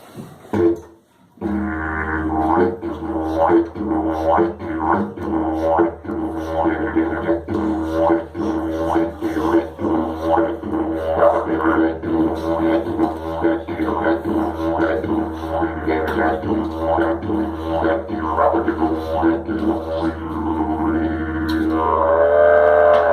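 A didgeridoo plays the heartist, a distinctive beat of the Garawa people of Australia's Northern Territory, with a continuous low drone and steady pulsing rhythm that runs loud and close, alone, after a brief pause at the start.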